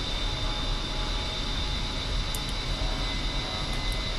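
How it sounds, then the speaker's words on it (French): An A-10 jet engine at full throttle in a flight simulator game gives a loud, continuous roar with a steady whine on top, holding constant throughout without any speech. "on met les gaz à fond"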